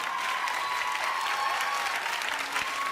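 Audience applause at a live talk, a dense sustained patter of clapping from a large crowd, fairly loud, with no voices rising above it.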